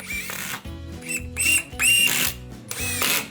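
A power driver sinking fully threaded screws into a deck board, whirring bursts that rise in pitch with a whining tone, close and loud, separated by brief pauses.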